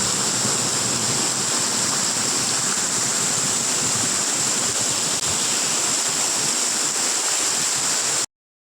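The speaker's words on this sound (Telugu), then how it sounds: "ఇక మనకు కింద అయితే వాటర్ అయితే ఫ్లో అవుతూ చూడండి" Water pouring steadily below Pocharam dam, a loud, continuous rushing roar close by that holds unbroken throughout, with no voices over it.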